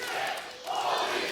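A sold-out wrestling crowd in Windsor roars in a continuous loud wall of shouting and cheering, dipping briefly before surging again.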